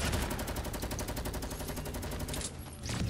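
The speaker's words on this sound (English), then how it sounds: "Oh no, he got a gun." Rapid automatic gunfire from the Fortnite battle royale video game rattles continuously at high volume, a dense burst lasting about two and a half seconds before briefly cutting out and resuming.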